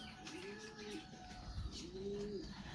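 Pigeons coo twice in close succession, soft rolling calls at close range over a quiet background with faint chirps.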